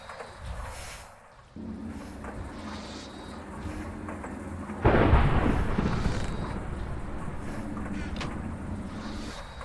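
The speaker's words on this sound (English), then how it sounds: "Why'd they have to make, like, a big thunderstorm noise" Thunderstorm effect in the Minecraft GTNH modpack: a low rumbling bed that swells into a loud crashing roll of thunder midway, then slowly decays into a sustained rumble.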